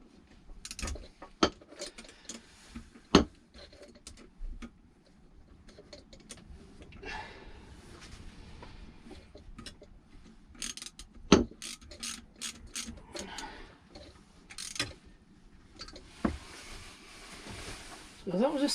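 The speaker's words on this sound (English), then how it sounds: "I'm just grab my 1/4" ratchet and" A 1/4-inch ratchet clicks in short, irregular bursts while fuel pump connections on a 1991 Toyota Celica GT are tightened, with sharp metallic taps and handling noises close by amid quiet background.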